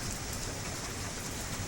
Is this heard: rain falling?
yes